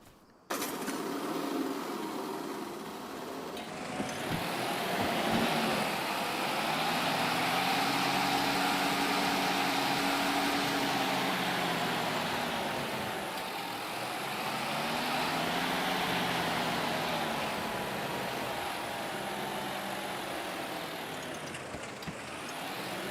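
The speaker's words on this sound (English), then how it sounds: "Let's get back in the tractor." Tractor engine in Farming Simulator 25, a steady loud drone with harmonic bands that rise and fall in pitch as the engine revs up and settles, running continuously for over twenty seconds with no talk.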